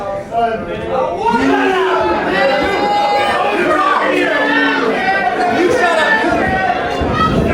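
A packed crowd roars and shouts continuously at a Penticton pro wrestling match between Sean Gaston and Drayco, a dense wall of excited voices, whoops and chatter that stays loud and close throughout.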